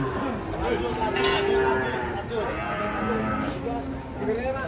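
Sacrificial cattle for Qurban being unloaded from a truck, mooing at close range amid a busy crowd with people talking and shouting throughout.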